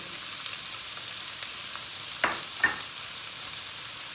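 Chopped onions with two garlic cloves sizzle steadily in a little oil in a hot frying pan, a close, even hiss with a couple of brief utensil clinks partway through and no voices.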